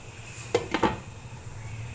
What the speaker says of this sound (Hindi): अब मैं इसको ढक दूंगी।